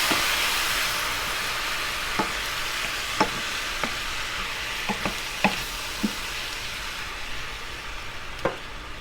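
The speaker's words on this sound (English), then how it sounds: "We're going to go ahead and add all of our diced tomatoes. Give it a stir." Diced tomatoes hit a hot pan already holding red pepper flakes for stuffed bell peppers, a steady loud sizzle broken by several clacks and scrapes of a stirring spoon, no one talking.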